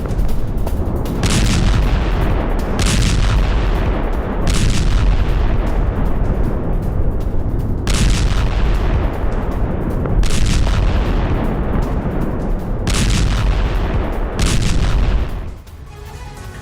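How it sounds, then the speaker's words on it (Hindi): Heavy explosions from Israeli army bombardment in Gaza boom one after another, about seven loud blasts spaced a second or two apart over a continuous roaring rumble, then the sound abruptly drops away. "हमास के ठिकानों पर आईडीएफ यानी कि इजरायली सेना की भीषण बमबारी हुई है।"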